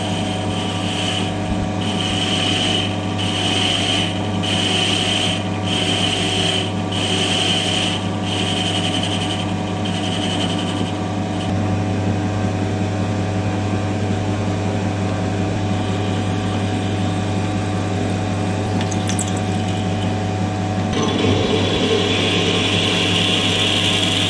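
Metal lathe turning a part in a workshop while building a brake dyno, a steady mechanical hum with a constant drone and faint rhythmic ticking in the first half, running alone without talk.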